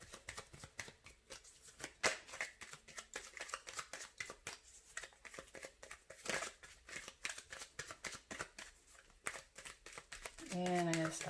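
Dense, crisp riffling of oracle cards shuffled repeatedly, close up, with brief pauses and a final flurry of snapping cards.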